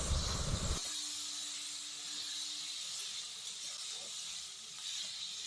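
Ground turmeric, cumin and ginger sauté in hot oil for a fish-head and cabbage curry, giving a steady, close hiss and sizzle that holds evenly throughout with no voices.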